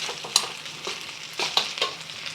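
Rice stir-fried in a hot pan sizzles steadily while a utensil scrapes and tosses it in several quick, distinct strokes, close up with no talking.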